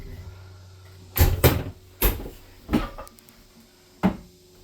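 Bathroom accessory drawer in a 2026 Grand Design Influence 3003RL camper sliding and knocking, a handful of short close wooden thumps and rattles spaced over a few seconds in a quiet room.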